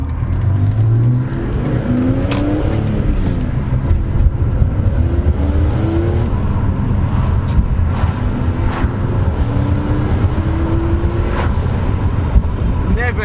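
A BMW E46 M3 engine drones and revs up through several gear changes, with rushing wind noise throughout, heard from inside the moving car with the window open.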